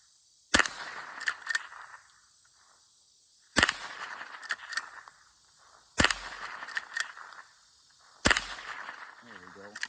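Four sharp .22 rifle shots cracking at a shotgun shell target, spaced a few seconds apart, each followed by a brief ringing tail and faint clatter, with quiet between them.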